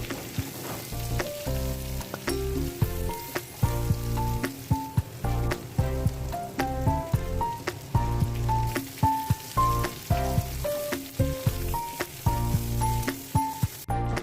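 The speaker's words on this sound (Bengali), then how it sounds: "আলুটা ভাজতে ভাজতে আমি এক চামচ মতো কালো জিরে দিয়ে দেবো" Potatoes sizzle in hot oil with black cumin seeds, a continuous close frying hiss broken by regular clattering stirs and scrapes, with melodic background tones running underneath.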